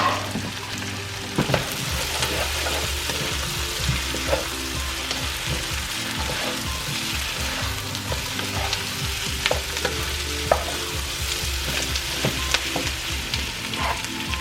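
Four pieces of potato frying in hot oil in a pot for pilau, giving a steady close sizzle with bursts of crackle and occasional clinks and scrapes of stirring throughout.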